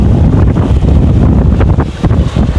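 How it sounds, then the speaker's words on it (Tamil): Strong wind blasts across an island seashore during crab hunting, a loud continuous roar buffeting the microphone with a low rumble and possible surf underneath, no voices. "நல்ல நல்ல காற்று"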